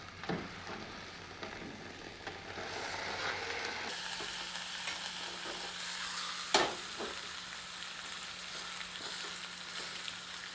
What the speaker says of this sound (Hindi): पैन में ग्रिल करते हैं।